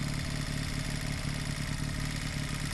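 A Honda CM200T motorcycle engine runs steadily up close, a dense, continuous mid-pitched drone with a faint clattering edge and no talk over it.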